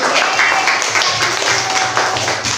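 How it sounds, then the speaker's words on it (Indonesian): A classroom of students applauds group 1 after their answer, close, busy clapping from many hands that stays loud and even for a few seconds. "kalau sudah tepat, tetap kita beri aplaus untuk kelompok 1"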